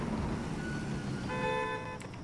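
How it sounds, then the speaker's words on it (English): A car horn honks in Construction Simulator 2022, a short steady tone over a constant low engine and road rumble, followed by a brief sharp knock near the end. "He keeps honking, but I can't hear him."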